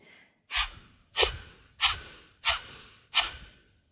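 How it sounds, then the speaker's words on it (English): Five sharp, forceful nasal exhalations in a yoga breathing exercise, evenly spaced about every two-thirds of a second, each a close, breathy burst that quickly fades into quiet. "start first with the sharp exhalation"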